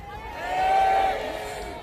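Crowd at an anti-nuclear rally marking the Fukushima nuclear accident lets out a loud, sustained shout that swells and then fades over about two seconds.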